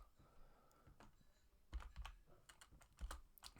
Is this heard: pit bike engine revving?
no